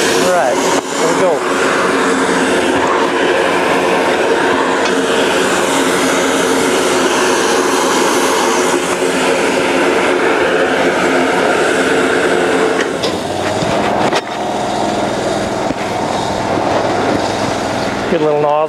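A cold water jetter runs with its line pressurized, giving a loud, steady mechanical roar and hiss that continues throughout, with someone talking over it.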